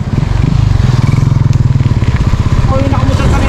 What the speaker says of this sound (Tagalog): Motor sa likod.